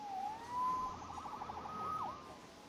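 A wailing electronic police siren in Marvel's Spider-Man Remastered rises and falls steadily at moderate distance, smooth and tonal, with no voices around it.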